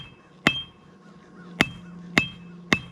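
Hammer blows forge a steel kiridashi blade: four sharp, ringing metallic strikes at uneven intervals, close and loud against a quiet background.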